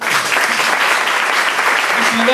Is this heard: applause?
yes